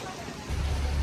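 Steady rain pouring down, a dense hiss that grows heavier and louder partway through.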